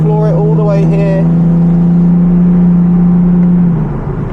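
Nissan 350z with a Veilside kit accelerating at full throttle on a race track in Japan, a loud steady engine drone held for several seconds before easing off, with a voice over the start.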